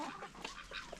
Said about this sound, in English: And check out these ducks